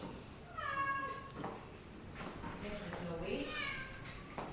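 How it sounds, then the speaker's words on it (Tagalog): Two drawn-out cat meows, one early and one near the end, close and clear over faint background noise. "May pusa dito."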